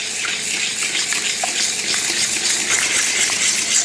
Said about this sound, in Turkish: Ve çırpıyoruz yine.